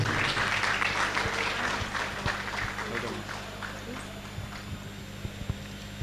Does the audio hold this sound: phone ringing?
no